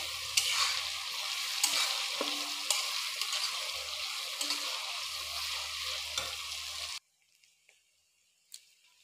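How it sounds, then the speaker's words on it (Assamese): Beef bhuna sizzles loudly in a hot pan while being stirred, with scraping and frying hiss for about seven seconds before cutting off to near silence with a faint knock. "এইখিনি ভালদৰে লাৰি লৈ মজাই অলপ সময়"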